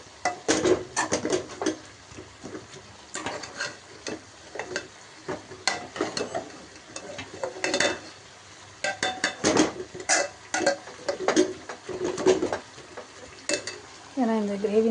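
Chicken sizzles as it fries in a hot pan while a utensil stirs and scrapes it in repeated bursts, with occasional clinks of metal against the pan.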